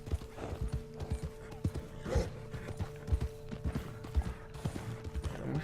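Horse hooves clip-clopping at a slow, tired walk in Red Dead Redemption 2, with steady irregular hoof thuds against a background of game ambience and faint creaks.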